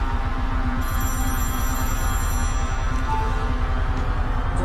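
A telephone rings loudly and close, its bright electronic ringtone repeating steadily over a low background hum, with no talking.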